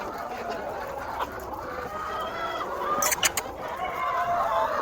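Large roosters and chickens cluck and call on a farm, scattered clucks under a steady noisy background, with a sharper burst of calls near the end and no talking.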